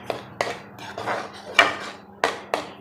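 A spoon clatters against a pan while spices are mixed and roasted for lauki kofta, giving a few sharp metallic clanks and scrapes spread over a short stretch with no voices.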